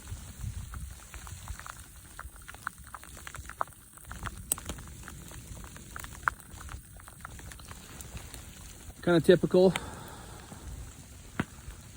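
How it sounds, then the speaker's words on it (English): Graupel, a mix of snow and tiny ice pellets, patters steadily on surfaces outdoors in the Colorado mountains during hunting season, a soft continuous ticking with a voice speaking briefly over it. "it's a mixture of snow and ice, kind of like tiny hail. That's what it's doing right now."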